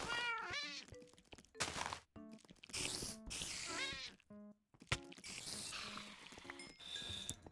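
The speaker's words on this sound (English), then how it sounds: "Why is this cat so fast?" A zombie cat in a modded Minecraft game gives several short, close meows amid bursts of game noise and thunks, with sounds starting and stopping in quick succession.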